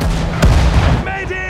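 A single heavy artillery blast booms in a US Army war video game, a sharp close thump with a rumbling low tail, followed by brief tonal game sound effects.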